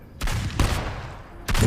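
Gunfire sound effect in a Hindi horror audio story, a few loud booming shots in quick bursts, heavy and close, with no voices.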